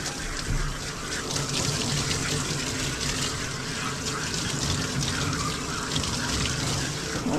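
Water runs steadily from a pet bathing system, a continuous broadband rush and spray that stays loud and even throughout, with no voices.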